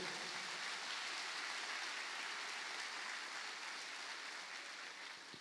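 Congregation at a missions worship service applauding in a dense, even hiss of many hands, steady and distant-sounding for several seconds, slowly tapering at the end without speech.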